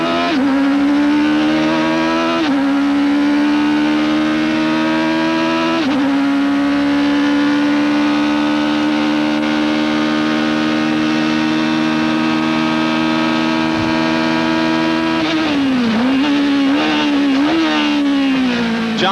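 A Toyota Atlantic race car, heard from onboard, accelerates hard along a straightaway, its loud high-revving engine climbing through gears with sharp shifts and a final downshift near the end.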